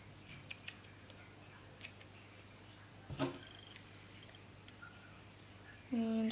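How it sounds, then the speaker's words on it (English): Scissors snip paper ephemera for a journal, a few quiet isolated cuts spread out near the microphone with one sharper snip midway, in an otherwise hushed room. "So I'll just cut that there."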